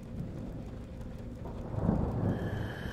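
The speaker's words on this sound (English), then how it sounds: "Lots of thunder." Thunder rumbles in the horror video game Wick, a low, rolling, fairly distant boom that swells midway through over steady rain.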